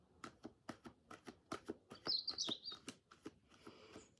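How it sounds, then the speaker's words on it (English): A bird sings in repeated short chirps at a steady pace, fairly close and clear, with one brighter trilling phrase midway and no talking. "You're going to carry on singing, bird?"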